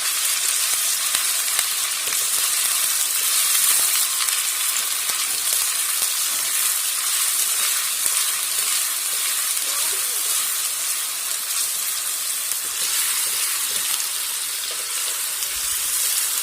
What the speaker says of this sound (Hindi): अब प्याज चॉप की हुई, 2 बड़ी अदद प्याज शामिल किया हमने इसमें।